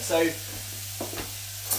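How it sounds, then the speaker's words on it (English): Chopped onions sizzle gently in a hot pan, a soft steady frying hiss with a few stirring scrapes, faint and close, a voice speaking briefly over it. "our onions are starting to sizzle away there"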